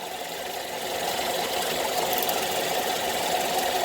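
A Chevrolet Cobalt car engine running steadily nearby, a constant even hum with a faint rapid ticking throughout and no voices.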